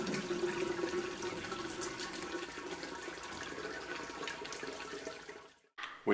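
Sparge water runs in a continuous splashing trickle over the grain bed during a home beer brew, close and steady for several seconds before dropping away into a brief silence near the end.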